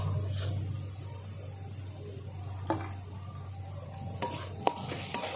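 Beetroot curry sizzles gently in a pan under a low steady hum. A few sharp scrapes and clinks of a spoon stirring come near the end.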